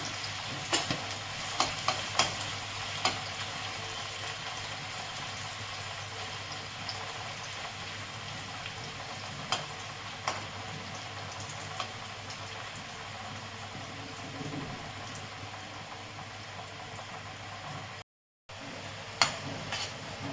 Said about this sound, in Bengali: এবার আমি পেঁয়াজটাকে ভেজে তুলে নেব।